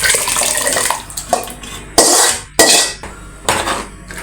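Cooked moong dal for ven pongal is poured from a pan into rice, giving several loud splashing, sloshing bursts in quick succession, with no one talking.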